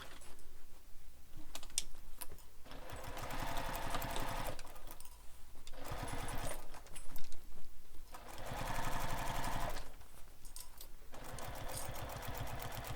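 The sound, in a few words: sewing machine stitching bag seam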